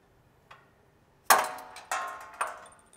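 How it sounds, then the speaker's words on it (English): A faint tap, then three sharp metallic hammer strikes on tow hook mounting hardware on a Toyota Tacoma, spaced about half a second apart, each ringing briefly, close and clear in a quiet room. "just give it a little tap with a hammer"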